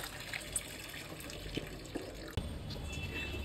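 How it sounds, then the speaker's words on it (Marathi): Water runs from a household tap indoors, a steady hiss and splash of filling water with a few small clinks and a brief bump partway through, heard close and moderately quiet. "पाणी भरायला"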